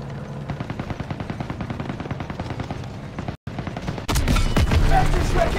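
Machine guns fire in the Call of Duty WWII video game. Rapid, evenly pulsing bursts stop for a brief gap, then return louder and denser as heavy fire.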